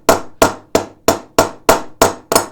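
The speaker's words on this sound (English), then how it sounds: "I'm actually going to use the peening end of the hammer." Eight sharp, evenly spaced metallic strikes ring out from the peening end of a hammer hitting steel during a straight razor build. Each blow is loud and close, with a quick decay, and the strikes come at a steady rhythm.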